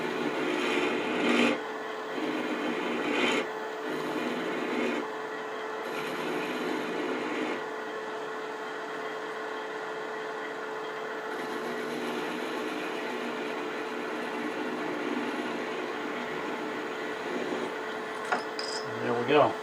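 Parting tool cutting a small wooden spin-top ornament on a woodturning lathe, giving a steady close rasping scrape throughout with brief louder catches and dips.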